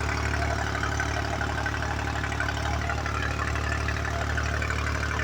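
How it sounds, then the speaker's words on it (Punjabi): A tractor engine runs steadily at idle during field work for wheat sowing, a constant low rumble close by with no talking. "ਦੇਖ ਬਾਈ ਕਿੰਨਾ ਰੈਲਾ ਚੱਲ ਰਿਹਾ ਟਰੈਕਟਰ"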